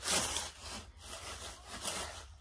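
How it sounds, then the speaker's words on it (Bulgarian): A key chips at a block of frozen juice, scraping and grinding in several quick, rasping strokes close to the microphone, fairly quiet and with no voices. "Пробиваме с ключ сока, за да се направим скрижина в 3 часа."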